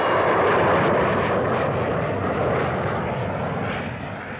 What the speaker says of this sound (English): The E-28 did about 17 test flights in 12 days